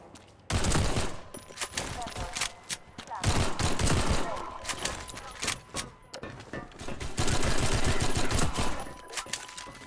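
Repeated pistol gunshots from Half-Life 2: MMod crack out in rapid bursts, loud and close, with short pauses between volleys and faint game sounds in the gaps.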